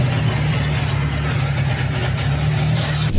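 A 1942 Willys Jeep engine idling after restoration, a steady low rumbling idle close by, even and continuous with no voices.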